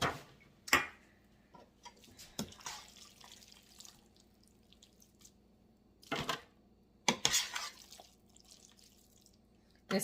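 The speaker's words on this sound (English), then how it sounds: "I'm going to give it a good spray." Cooking spray is hissed onto a tin baking pan in a series of short, sharp bursts: one early, then a pair close together later, with quiet kitchen pauses between.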